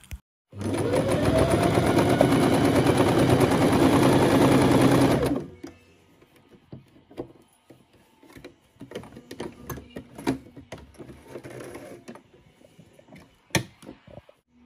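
A sewing machine stitches in one loud, close, steady run of about five seconds, then stops. Scattered clicks and rustles of handling follow, with no speech.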